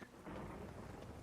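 Low rumbling thunder with steady rain during a storm in The Witcher 3 video game, faint and continuous over a brief stretch.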